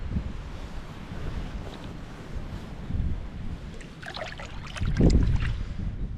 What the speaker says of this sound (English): it is super windy, so I hope you can hear me